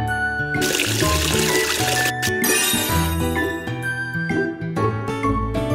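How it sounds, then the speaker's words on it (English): Rinsing water in the Tayo bus game trickles and tinkles as faces are washed again, light watery jingles layered over steady cheerful game music. "wash their faces again with water."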